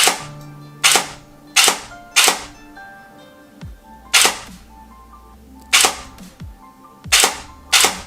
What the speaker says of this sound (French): Le tir se fait en fin de course de détente.